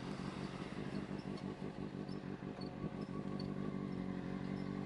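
Benelli TNT 600i 600cc motorcycle engine and exhaust: a steady, moderately distant idle with a fast, even pulsing beat, continuous and unbroken throughout with no talk over it.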